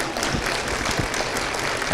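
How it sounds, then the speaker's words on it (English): A short burst of applause from a church breakfast crowd, close and fairly loud with scattered individual claps standing out, lasting about two seconds. "Give another round of applause."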